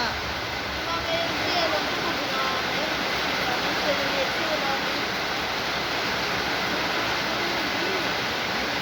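Rushing floodwater surges past a house where it has swept up motorbikes and cars, making a loud, continuous, unbroken roar of moving water.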